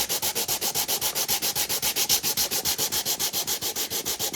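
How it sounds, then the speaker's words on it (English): Rapid, even back-and-forth strokes of sandpaper on a wooden Bluetooth speaker box after glue-up, a steady raspy scratching rhythm, close and alone. "I would work over a surface that you don't mind getting dusty, because it's going to get dusty."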